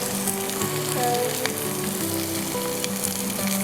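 Fish frying gently in oil in a pan over low heat gives a steady, close sizzle and crackle with no break and no talk.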